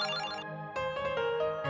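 A phone ringtone plays a bright electronic melody, steady and clear, with short rhythmic note changes and no voices.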